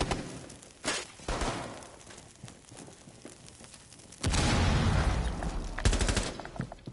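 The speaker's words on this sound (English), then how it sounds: "I have to shoot you through a wall" Gunfire through a wall in Rainbow Six Siege, heard as a few muffled, spaced shots. A loud, dense stretch of rattling fire follows, then a couple more bursts, with no talk.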